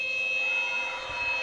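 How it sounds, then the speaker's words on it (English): A basketball game buzzer at a FIBA AfroBasket preliminary between Burundi and Eritrea in Nairobi sounds as a steady, loud electronic tone that holds for the whole moment over arena background noise. "Nice shot just before the buzzer"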